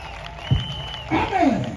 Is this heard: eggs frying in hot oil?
no